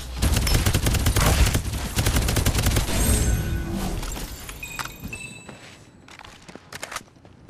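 Rapid bursts of gunfire in a video game, dense volleys for the first few seconds, then thinning to scattered single shots.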